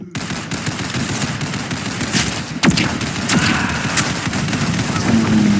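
Rapid bursts of video game gunfire crackle throughout a gun fight, dense and continuous with louder shots standing out near the middle.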